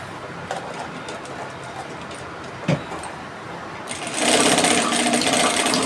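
Sewing machine topstitching the notched edge of a side pocket, a soft rapid mechanical whir that swells louder near the end, with a sharp knock midway.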